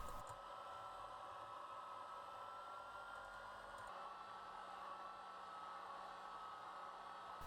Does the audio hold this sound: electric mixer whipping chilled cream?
yes